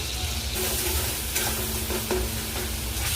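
Tomatoes and green chillies frying in oil in a wok, a steady close sizzle with stirring scrapes and occasional clinks, no voices.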